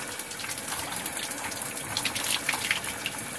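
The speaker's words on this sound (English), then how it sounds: "And so this is an outside shower. It's nice and warm." Water gushes steadily from an outdoor shower at a primitive cabin in the woods, a continuous hissing spray with no talking.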